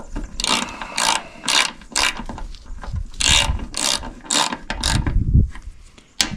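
Repeated ratchet-pawl clicking from a wrench tightening hardware during repair of a Wolferidge 35SHO and F-16 conveyor, in bursts of rapid ticking strokes with short pauses between, close and fairly loud, no talk.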